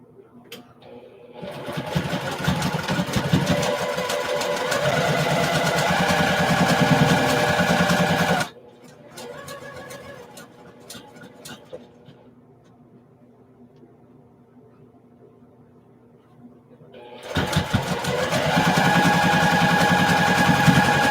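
A sewing machine stitches a quilt seam top to bottom in two long loud bursts of steady rapid whirring, separated by a quieter pause with light handling noise.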